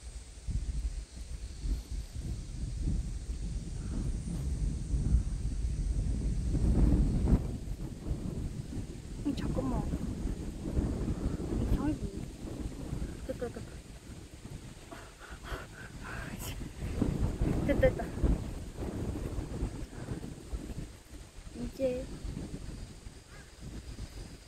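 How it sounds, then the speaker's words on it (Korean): Wind rushes over the microphone outdoors in nature in loud, uneven low gusts that swell and fade, with a voice speaking at moments. "바람 좀 그만 불어 줄래?"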